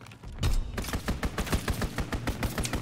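Rapid gunfire rattles in a WWII-themed capture-the-flag shooter game during an enemy aircraft strafing run, dense sustained bursts of automatic fire, loud and close, with no talking.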